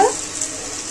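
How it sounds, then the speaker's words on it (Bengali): Potato pieces frying in ghee for aloo morich, stirred in the pan, make a steady, close hiss of sizzling fat that runs unbroken for a second. "ফের নেড়ে ছেড়ে ভাজতে থাকবো। নেড়ে ছেড়ে ভাজা হয়ে গেছে আলুগুলো"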